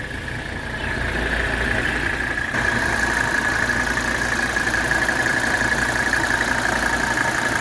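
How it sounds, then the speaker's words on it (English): A 1983 Mercedes 300SD diesel engine, already warm, catches almost at once and then settles into a steady, loud idle with a rough clatter and a constant whine. It continues unbroken and close by. "Let's fire this up. We'll watch our glow plug. There we go. Fires right up."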